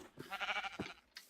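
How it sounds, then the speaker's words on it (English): A sheep bleats in Minecraft, a quavering nasal cry heard up close, faint overall and brief. "Okay, we got 2 sheep in there."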